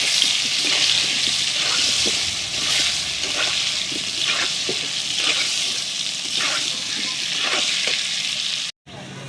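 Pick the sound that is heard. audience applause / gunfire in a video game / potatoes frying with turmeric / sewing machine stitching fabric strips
potatoes frying with turmeric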